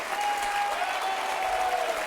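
Steady, full applause from a television game show studio audience, close and continuous for the whole stretch, with a thin whistle heard above the clapping.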